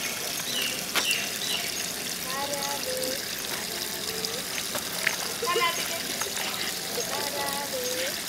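Water runs steadily into a small backyard pool, a continuous trickling, splashing stream heard close and fairly quiet, with people talking now and then.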